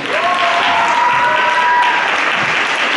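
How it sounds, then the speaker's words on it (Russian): Sustained audience applause for the finalists at a hobby-class dance tournament, loud and dense, filling the whole stretch without a break. "И чтобы вы еще поаплодировали нашим финалистам Александру и Екатерине."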